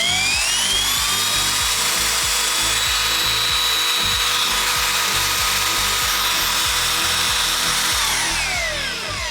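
A Bauer drywall sander with a smooth variable-speed dial runs continuously and loudly, its high whine sweeping in pitch while a rapid rhythmic grinding rattle pulses underneath throughout.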